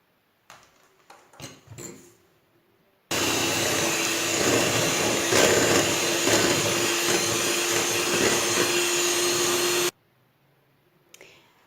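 Electric hand mixer whipping a cream mixture for a tray of qishta-style marshmallow dessert in a stainless steel pot: a loud, steady whirring that starts abruptly, runs for about seven seconds and cuts off, with quiet handling sounds before and after.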